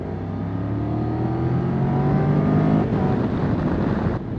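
A Triumph Tiger 1200 motorcycle engine pulls hard on a road ride in Wales, its pitch climbing steadily through the revs with a strong, continuous roar and wind rush, then easing briefly near the end.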